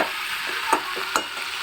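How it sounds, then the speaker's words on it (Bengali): Potato curry with green peas sautés in a pan, a steady close sizzle with a couple of sharp stirring clinks from a utensil against the pan. "মটরশুঁটি দিয়ে আর একটু ভালো করে কষিয়ে নেবো আলুর দমটা"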